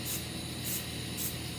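PAM cooking spray sprayed onto a nail as a release agent, three short hissing bursts evenly spaced about half a second apart, close and fairly quiet.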